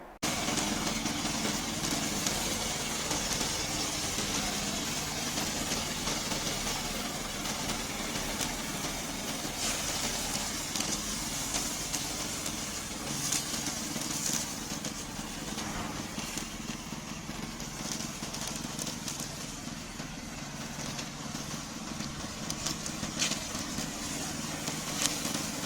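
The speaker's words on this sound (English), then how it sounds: "Today I'm glad to introduce our remote control mower." Remote control lawn mower engine running steadily at a moderate distance, a continuous motor hum and rattle throughout with faint talk underneath.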